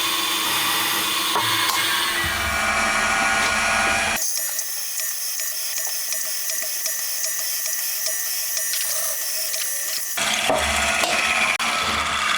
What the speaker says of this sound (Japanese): ドリルの下穴が終わったので、